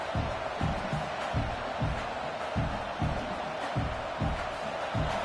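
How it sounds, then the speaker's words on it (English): A big crowd roars steadily at a Clemson college football game in the stadium while the defense tries for a stop. A thumping beat pulses underneath. "this crowd coming to life here, trying to help the defense get a stop"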